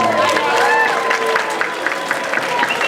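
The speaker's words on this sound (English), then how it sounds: "Everybody give yourself a big round of applause." A crowd claps steadily, a dense patter of many hands filling the space with some cheering mixed in, fairly loud.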